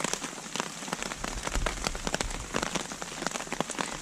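Light rain with a few small pebble-sized hailstones patters steadily on a surface, a dense, even crackle of close drops with no voices.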